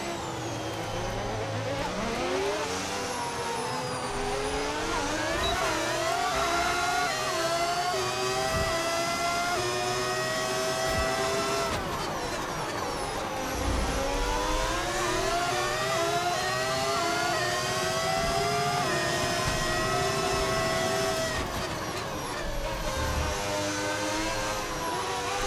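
Race cars overtaking at Monaco in the racing game F1 25, with high engines screaming and rising through gears, passing close in repeated loud swells of revving and downshifts.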